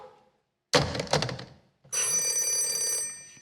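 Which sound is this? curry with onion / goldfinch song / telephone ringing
telephone ringing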